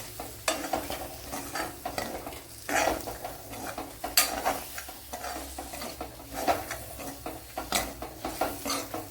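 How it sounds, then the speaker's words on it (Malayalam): Asafoetida powder fries in a pan on low flame with a soft continuous sizzle, broken by repeated scraping and stirring strokes of a utensil against the metal, close and alone. "ഇനിയൊരു 1/4 ടീസ്പൂൺ കായപ്പൊടിയും കൂടെ. നല്ല പോലെ ഒന്ന് മൂപ്പിച്ചെടുക്കണം."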